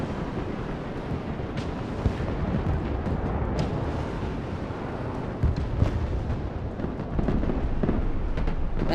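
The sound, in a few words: bombing run explosions in the video game Broken Arrow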